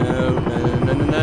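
A Sikorsky S-76 helicopter in the X-Plane 11 flight simulator gives a loud, steady throbbing engine drone with a fast, even rotor pulse running through it the whole time.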